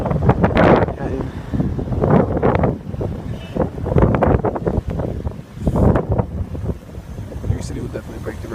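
Blizzard wind gusting through Manhattan along Riverside Drive, heavy blustery roaring surges buffeting the microphone close up, rising and falling in waves.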